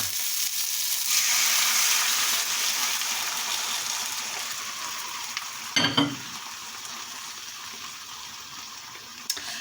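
Oil, a medium onion and bean sprouts for egg foo yung fry in a pan with a steady, close hiss of sizzling, a brief stirring clatter near the middle and a small knock at the end, no talking.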